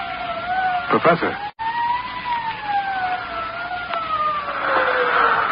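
A wailing police siren rises and falls steadily throughout, moderately close, with a brief dropout partway and some background noise, in an old-time radio drama.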